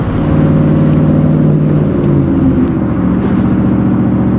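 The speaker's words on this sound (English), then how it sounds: "This particular model is powered by a 5-liter V8. It's a Coyote, the Roush supercharger strapped to the top of it." A Shelby Cobra by Superformance with a Coyote 5-liter V8 and Roush supercharger runs loud and close, a deep steady engine roar with slight shifts in pitch and no talking.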